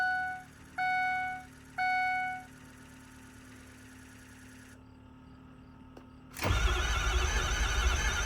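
A replacement starter from a 6.7L Powerstroke, fitted to a 6.0L Powerstroke diesel truck, whines in three short cranking bursts before a loud, broad roar takes over near the end.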